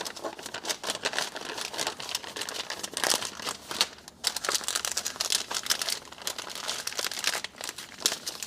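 Steady, busy crinkling of a plastic MRE pouch being zipped shut and slipped beside its heater, close and continuous, with rustling and crackling handling noises throughout.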